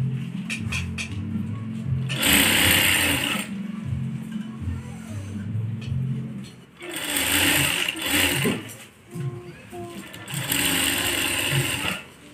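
Sewing machine stitching a necktie, running in three loud bursts of steady mechanical whirring separated by quieter pauses of handling noise.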